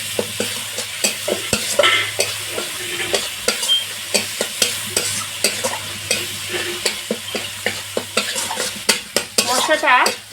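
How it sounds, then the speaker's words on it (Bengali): Yogurt spice paste (masala) sautéing in a pan for a vegetarian dish, a steady sizzle broken by frequent scraping and clinking strokes of a spoon against the pan, close and fairly loud, with no talking. "মশলাটা খুব ভালো করে কষিয়ে নেব"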